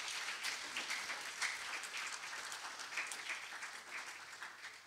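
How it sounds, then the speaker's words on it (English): An audience at a school presentation assembly claps steadily for Year 9 students, a dense, even patter of many hands heard from a distance at low volume with no voices over it. "So I think a round of applause is due now for Year 9."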